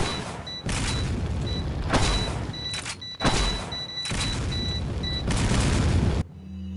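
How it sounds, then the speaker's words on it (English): Repeated heavy explosive booms from the Mine Thrower's darts in Resident Evil 4, several loud blasts in quick succession over a sustained rumbling roar, with no one speaking. "The Mine Thrower. Shoot a big dart out of it and it blows up."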